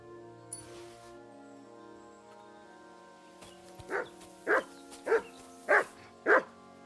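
A dog in the video game Kingdom Come Deliverance 2 barks five times in an even rhythm, moderately near, over a quiet ambient game backdrop.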